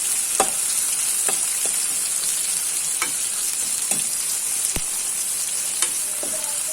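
Medium onions frying in a pan for crab sukka, a steady bright sizzle running throughout with scattered sharp clicks and taps of a spoon stirring against the pan.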